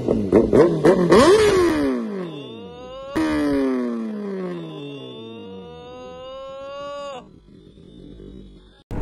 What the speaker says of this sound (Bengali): এবার স্টার্ট হতে চলেছে ZX 10R